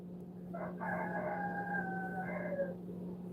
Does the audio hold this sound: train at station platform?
no